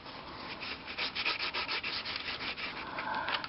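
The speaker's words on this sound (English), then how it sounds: "And get the paint off the fuselage too." Thick paint is rubbed and sanded off the foam fuselage of an 800mm FMS model plane, making close, uneven scratchy strokes in quick bursts with no voices.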